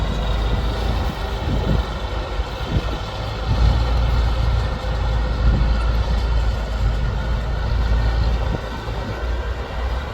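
A combine harvester fitted with four-wheel drive runs through harvest testing with a continuous loud, rumbling engine and machinery drone that holds steady throughout with a few faint knocks.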